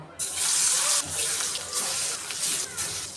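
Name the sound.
rohu fish frying in oil in a wok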